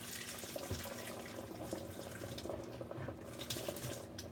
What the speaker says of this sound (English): So, pour some of this water out.